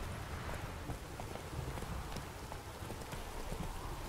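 Roach the horse trotting in The Witcher 3, steady clip-clop hoofbeats at a moderate pace under an ambient game backdrop.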